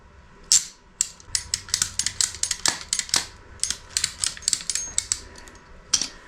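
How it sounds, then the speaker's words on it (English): Thick 95mm electrical cable being cut by hand, with a rapid series of sharp, close ratcheting clicks in an uneven rhythm of roughly two dozen snaps and brief pauses between groups. "last time cutting 95mm cable"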